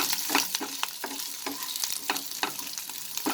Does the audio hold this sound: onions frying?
yes